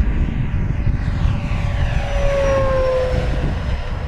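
An FMS Corsair 1700mm RC warbird on 8S power passes at full throttle, its electric motor and propeller whining loudly with a rising then falling pitch sweep as the plane flies by close.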